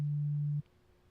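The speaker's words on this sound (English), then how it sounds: "So when I pull it all the way down, it sounds almost like a sine wave because it's got really just that fundamental frequency." A Massive software synthesizer tone, its filter pulled all the way down to a near sine wave, holds a pure, steady low hum for about half a second and then cuts off abruptly, leaving near silence.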